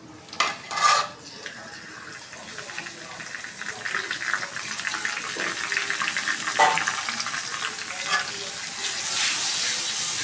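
Onions and spices frying in oil in a home kitchen, a continuous sizzle that builds gradually, broken early by a few sharp clinks and clatters of a utensil against the pan.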